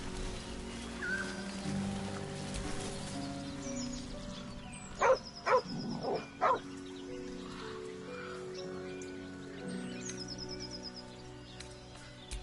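A dog in the video game Baldur's Gate 3 gives three quick, sharp barks midway through, set against a bed of ambient game music with faint chirping birds.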